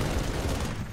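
Gunfire in the video game Halo 3 ODST: a dense, rapid burst of shots packed into about a second, loud and close, with no talking.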